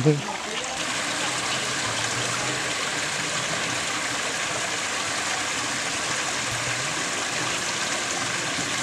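Water from a spring flows in a forest among stones, making a steady, even rushing and trickling that continues without break, moderately loud and close.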